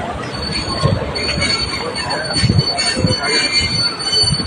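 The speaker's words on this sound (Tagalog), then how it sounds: "May train pala dito." A train rolls past on rails in Yangon, its wheels squealing loudly and steadily over a continuous close rumble for the whole stretch.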